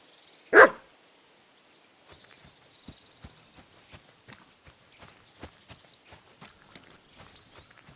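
A single loud dog bark from the video game Kingdom Come: Deliverance 2, close and sharp, followed by a steady run of soft footsteps or hoof clops on the ground.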